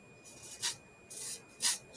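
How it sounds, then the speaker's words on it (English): Two short hissing bursts of an aerosol spray can, close and fairly quiet, with faint softer hisses between them. "spray it a little bit"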